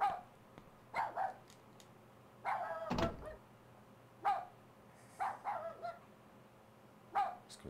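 A dog barks in short bursts, some single and some doubled, spaced out across a dark horror video game scene, with a louder thud or door-like knock partway through and a low hum underneath.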